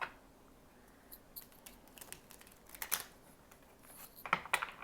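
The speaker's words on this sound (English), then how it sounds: "these cards are not very easy to shuffle because of their size" Quiet papery riffling and soft slapping of large oracle cards being shuffled, in short irregular bursts that grow busier toward the end.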